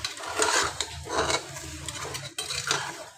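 A spoon stirs and scrapes homemade masala in a cooking pot, making repeated uneven metallic scraping strokes with faint sizzling between them.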